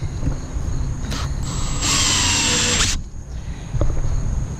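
A power drill drives a screw into a wooden table or workbench leg, with a short whir, a brief pause, then a steady loud high-pitched run of about a second that stops abruptly as the screw seats.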